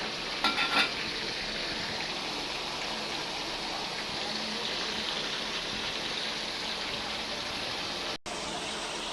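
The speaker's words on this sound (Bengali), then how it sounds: "তেল গরম হয়ে গেছে, এখন আমরা মাংসগুলো দিয়ে দিব" Chicken meat frying in hot oil, a loud dense continuous sizzle like heavy rain, with a brief burst of crackling at the start and a short cut near the end.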